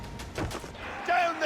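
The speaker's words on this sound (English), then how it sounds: "Fire! She's vulnerable there, Captain! Fire!" Cannon broadside firing from a sailing warship in Assassin's Creed IV Black Flag, several booming shots in quick succession over the first second, followed by shouting crew voices.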